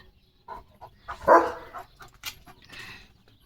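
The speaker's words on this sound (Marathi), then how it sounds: "जाळाला भुंकतोय लिओ" A dog barks at a burning trash fire in a few sharp, separate barks and yips, close and fairly loud, with quiet gaps between them.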